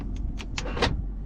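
Power door locks of a 2000 BMW 540i sedan actuating in a quick series of three or four short mechanical clunks within about a second, close and fairly crisp over low idle hum.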